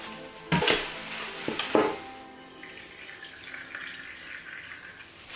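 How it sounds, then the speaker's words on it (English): Water pours onto a potted plant from close by, a couple of splashy bursts at first, then a softer steady trickle and patter as the soil soaks it up, with no talking. "Now I'm just adding water, trying to get the whole plant."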